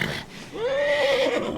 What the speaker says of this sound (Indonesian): Seorang pria menyalakan bom di punggung kuda dan melepaskannya ke arah Hyakimaru